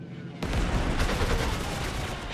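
Strafing gunfire in Panzer Corps 2 starts abruptly and keeps up as a dense, continuous rattle of rapid shots and booms, loud and close, with no talk over it.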